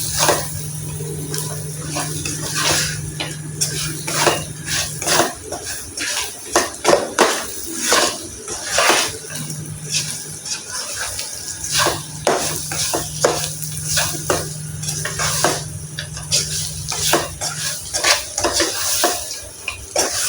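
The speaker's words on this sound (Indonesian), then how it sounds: "Mericanya ini sesuai selera ya. Dan tumis lagi." Vegetables stir-fried with pepper and salt in a pan, with a steady sizzle under repeated clanks and scrapes of a utensil against the pan.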